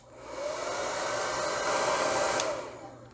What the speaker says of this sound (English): hit it with my hair dryer.